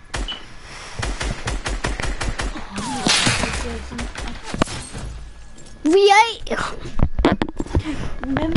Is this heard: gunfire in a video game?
yes